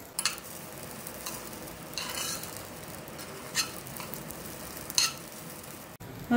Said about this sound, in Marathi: या तेलावर परतून घेऊ आपण तांदूळ, म्हणजे मऊ आणि मोकळा होईल आपला मसाले भात।